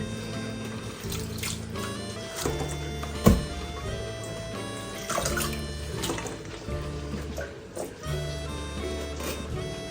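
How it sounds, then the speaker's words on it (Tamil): Running water from a tap splashes steadily while leeks are rinsed and handled in it, with occasional clunks over soft background music. "ரெண்டு மூணு தண்ணியில் வடிவாக கழுவும்"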